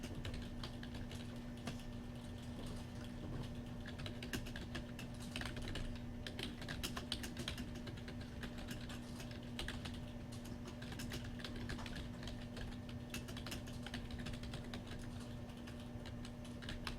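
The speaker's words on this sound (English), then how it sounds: "And start typing." Steady typing on a computer keyboard, rapid clicking keystrokes running continuously and close by with a constant low hum underneath, no voices.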